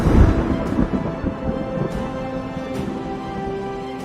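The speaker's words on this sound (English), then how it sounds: "the Storm King's thunder?" A thunder effect for a fantasy storytelling scene starts with a low, heavy rumble that gradually fades to a quiet, drawn-out roll; no one speaks.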